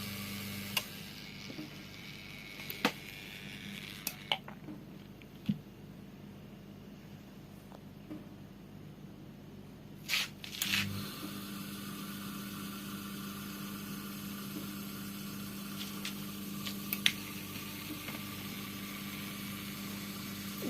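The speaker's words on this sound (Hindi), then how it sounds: "पानी लै रही है साडी वाशिंग मशीन" A Bosch washing machine draws in water, giving a steady low hum with faint ticking and clicks, then a brief rise in noise midway before the even drone resumes. No voices are heard.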